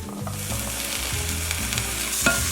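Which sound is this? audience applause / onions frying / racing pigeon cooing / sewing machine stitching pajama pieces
onions frying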